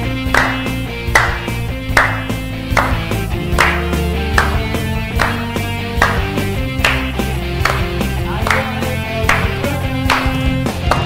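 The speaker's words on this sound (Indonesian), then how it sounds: "Kita kasih tepuk tangan." A church youth congregation at an online service claps along in a steady rhythm over loud music, the sharp hand claps recurring at regular beats throughout.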